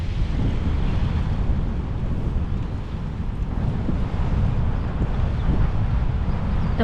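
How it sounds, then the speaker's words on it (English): Big ocean waves roll in steadily on the south coast of Mauritius near Le Bouchon, breaking against rocks, a continuous loud rumbling surf heavily mixed with wind buffeting the microphone. "The waves are pretty big here too."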